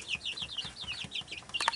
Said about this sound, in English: So these guys are all the Rhode Island Reds. They're all female.